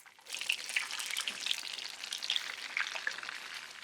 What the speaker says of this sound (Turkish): Eritilmiş tereyağında tavaya koyun.